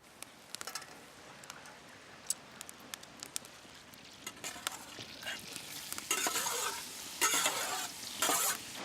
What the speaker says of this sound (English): I'm just cutting up these morels and we're getting ready to saute them